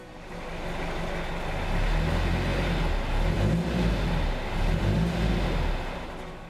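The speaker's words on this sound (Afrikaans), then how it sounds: "Dit is 'n safari voertuig." A safari vehicle's engine runs steadily and revs up, a loud, close rumble that swells twice toward the middle and end before easing off, with no voices.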